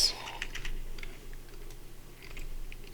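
Keys on a computer keyboard are tapped in a quick, light, irregular run while a Roblox-style game is being built, close and soft with no voices.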